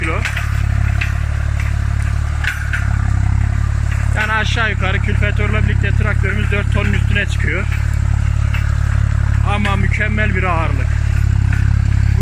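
A loaded Tümosan tractor pulls a cultivator, its engine giving a steady low drone throughout while someone speaks over it in the middle and again near the end.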